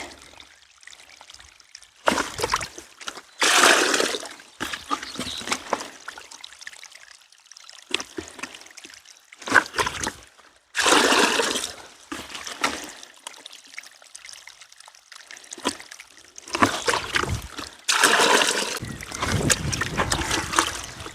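Irrigation water pours and splashes into garden beds of seedlings on a farm plot, coming in loud intermittent gushes separated by quieter gaps.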